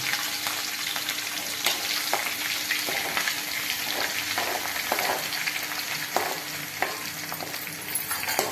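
Ginger garlic paste fries in hot oil in a pan, a loud continuous close sizzle with occasional stirring clicks and scrapes, and no talking.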